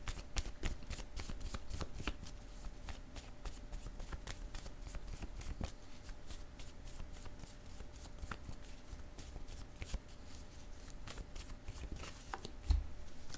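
Playing cards shuffled repeatedly at close range, a steady run of quick crisp riffles and flicks that continues throughout with a few sharper snaps near the end.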